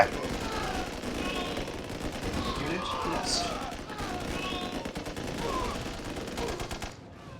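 Naval ship guns in Red Alert 1 Remastered fire in steady, rapid bursts of blasts that keep up for several seconds over a dense battle mix and fade out at the end.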